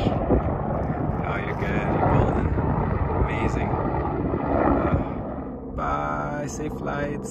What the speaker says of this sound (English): Copter's taking off.